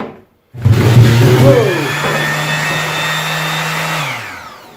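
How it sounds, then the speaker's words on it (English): A Craftsman orbital sander switches on with a sudden loud motor whine that holds steady for several seconds before spinning down, with a brief exclamation from a person near the start. "let's go ahead and try the sander first, how the sander works by itself"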